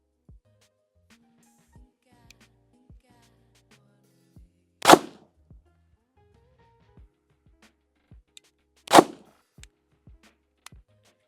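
Two sharp gunshots from a cheap double-stack 1911 pistol crack out about four seconds apart, loud and isolated, with faint clicks and quiet handling in between.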